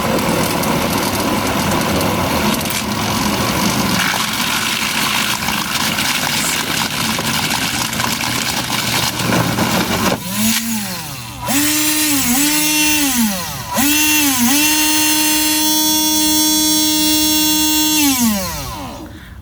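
A small engine drives a homemade spinning disco ball at half throttle, running loud and steady throughout, then revving in repeated rising and falling pitch swells during the second half.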